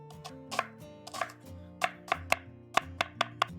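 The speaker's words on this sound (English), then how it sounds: "Chop the onion." A whole medium onion chopped with a knife on a board, a run of about a dozen sharp, close knocks, irregular at first and then settling into a steady rhythm, with a low tonal hum underneath and no talk.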